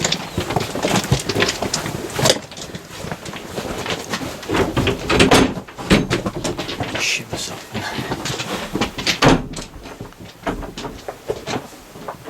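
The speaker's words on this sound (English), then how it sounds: "We've got an old door here." An old wooden door in a disused lead mine being moved, giving repeated loud clunks, scrapes and rattles that keep coming over a noisy, echoing background.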